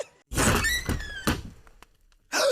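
A creaky door swings open with a couple of sharp, close squeaks and a soft thunk, followed by brief quiet and then another creak.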